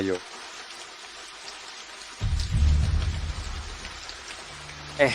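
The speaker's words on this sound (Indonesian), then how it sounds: "Di luar sedang hujan, susah cari taksi." Steady rain falls outside during a night scene in a drama, a soft hiss running throughout, with a louder low rumble swelling midway and then easing off.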